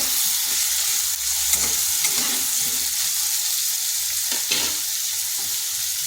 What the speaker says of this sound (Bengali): পেঁপেটাকে হালকা ভেজে নেব।